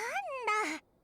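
A cat in Genshin Impact, a shop-minding cat named Bastet, lets out a single drawn-out meow that rises, then bends downward before cutting off into quiet.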